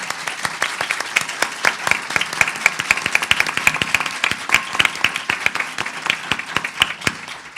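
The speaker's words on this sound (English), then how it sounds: "please, a big round of applause." A conference audience applauds a panel at a women's issues forum, loud and close with sharp dense claps sustained throughout, no voices over it.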